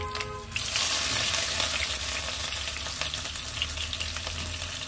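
Shrimp fritters wrapped in bottle gourd leaves fry in hot oil, a loud, steady crackling sizzle that starts abruptly after a quieter moment and continues without pause.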